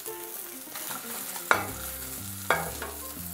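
Tilapia sautés in a pan with a soft, steady sizzle, broken by two sharp metallic clanks of a utensil against the pan about a second apart, close and clear with no voices.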